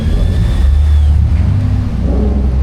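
A Mazda RX-7 street car on the streets of Osaka, Japan, its engine a loud, steady droning roar that swells slightly and then eases off, close by with constant road noise.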